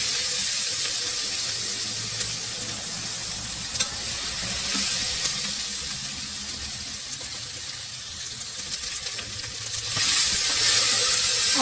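Ingredients for beef karahi fry in a pan toward light brown, giving a steady close sizzle with occasional stirring scrapes and a louder burst of hissing toward the end.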